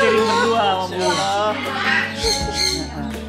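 Parrots squawking loudly and repeatedly at a parrot shop, close by and continuous, with people talking underneath.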